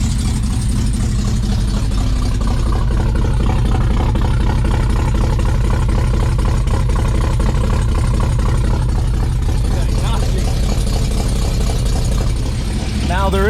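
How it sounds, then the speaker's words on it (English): A cammed LT1 V8 in a 2017 Chevrolet Silverado idles with a lopey, uneven rumble and a ticking exhaust leak, loud and continuous with a person talking over it. "Now there is a big exhaust leak"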